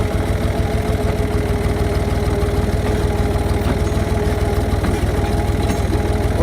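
Engine chugging at low throttle in a low gear while pulling logs to a sawmill, a steady close mechanical putter with a rapid regular pulse and no change in pace.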